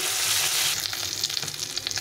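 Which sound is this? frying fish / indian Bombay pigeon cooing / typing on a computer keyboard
frying fish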